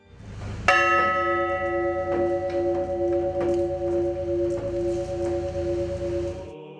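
A church bell rings out at a new wooden Orthodox church in a park beside a Russian Orthodox seminary. One strong strike opens into a long sustained ringing tone, loud and clear, with no voices over it.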